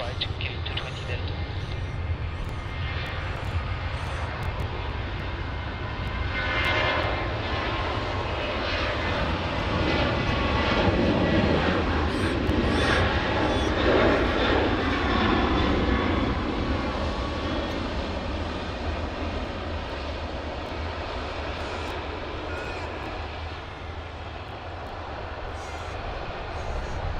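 A jet lands on runway 16 right at Sydney Airport, its broad engine roar holding steady and loud for the whole stretch, peaking in the middle as it passes, with radio-style voices faintly under it.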